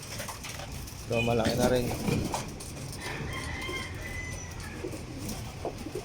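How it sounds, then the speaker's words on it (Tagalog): Pigeons coo at a loft in soft, repeated throaty coos, close by, while someone talks over them and faint ambient noise fills the background. "Ayan mga kalapatids, mga kalapati natin."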